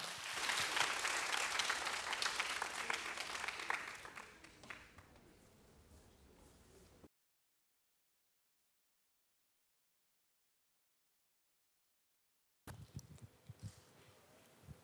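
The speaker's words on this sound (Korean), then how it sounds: "우리 안세영 권사님 나오실 때 박수로 환영해 주시기 바랍니다." Loud applause from a church congregation fills the room, gradually thinning out before a stretch of silence, then a brief burst of noise returns.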